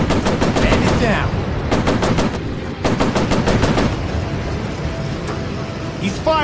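Machine guns from a WWII Pacific air combat VR video game fire in rapid, loud bursts, several long rattling volleys in quick succession, then the fire drops to a quieter rumble.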